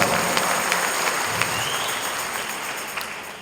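Audience applause at a church intercessory prayer gathering in Papua, a brief burst of clapping from a crowd that starts strong and gradually fades over a few seconds.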